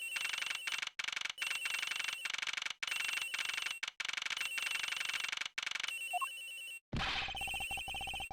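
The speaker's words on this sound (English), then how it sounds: "The ringing's coming from somewhere in here, sir." Electronic phone ringing in the video game Ace Attorney Investigations, repeated loud bright trilling bursts with short gaps, then a pause and a different chime tone near the end, no speech.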